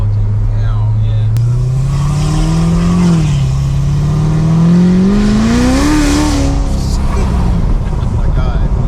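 Cammed C7 Corvette Z06 on E50 fuel accelerating hard, its engine note climbing steadily in pitch through the gears with a brief dip at a shift, loud and close from inside the cabin, with people talking excitedly over it.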